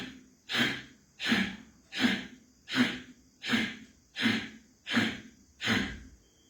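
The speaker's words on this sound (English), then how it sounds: "One round I demonstrate. Active exhalation 10 times." Forceful active exhalations through the right nostril in pranayama breathing, eight sharp nasal blasts in a steady rhythm about one per second, close and loud, with no talk.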